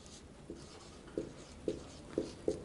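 Marker or chalk strokes on a classroom board while writing out a maths data-handling table: five soft, evenly spaced taps and scratches, close and faint, with no speech over them.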